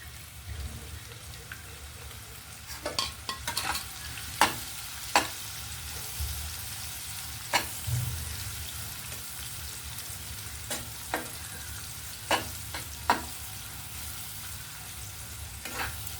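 Onion and green chilli pieces fry in hot oil, giving a steady soft sizzle broken by a dozen sharp spatula clicks and scrapes against the pan, with no talking.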